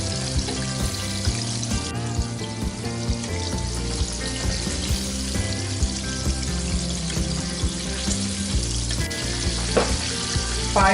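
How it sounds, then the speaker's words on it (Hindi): Chicken deep-frying in hot oil gives a continuous, dense crackling sizzle with steady bubbling underneath, fairly loud and close, with an occasional brief tap and no voices. "चिकन को फ्राई होते हुए तकरीबन 15 मिनट हो गए हैं"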